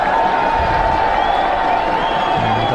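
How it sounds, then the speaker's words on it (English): An excited crowd in the Mound Stand at a cricket ground, a steady roar of many voices with scattered whoops and clapping, broad and continuous throughout. "Crowd excitement in the mound stand."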